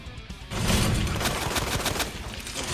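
Gunfire in the Resident Evil 2 Remake video game, a dense run of rapid shots with loud booming impacts after a brief quiet start, carrying on steadily for the rest of the clip.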